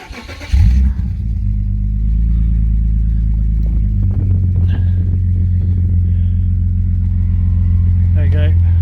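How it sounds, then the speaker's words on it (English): A BMW Z convertible engine cranks and catches after a short burst, then settles into a steady low idle rumble close by, with a voice speaking briefly near the end. "Maybe I do need to start the car."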